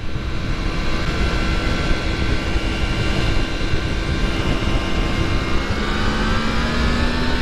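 A Yamaha MT-10 SP motorcycle accelerates hard, its engine a loud, continuous roar with a steadily rising pitch that holds close by throughout, with no talking over it.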